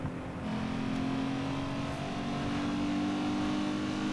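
Tuned car in Need for Speed Underground 2 driving into the garage, a steady droning engine hum with a low tonal note, continuous and fairly loud with no talk.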